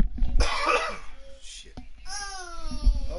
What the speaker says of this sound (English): Sorry for my coughing, I still got bronchitis.